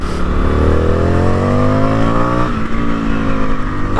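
An Indian FTR1200 motorcycle accelerates hard and close, its engine note climbing steadily through a gear, briefly dropping at a shift, then pulling up again under wind rumble.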